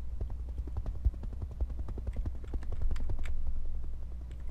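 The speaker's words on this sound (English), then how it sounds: "We got chopper sounds now too." A helicopter in the mech game RogueTech, built on BattleTech, gives a steady low rotor thump and drone, close and fairly quiet, with faint clicking and rattling layered over it and no speech.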